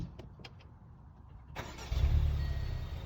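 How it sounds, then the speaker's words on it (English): A few faint clicks and clunks, then a starter catches and a Land Rover Discovery Sport engine fires up, settling into a rumbling idle close by. "That's the initial startup"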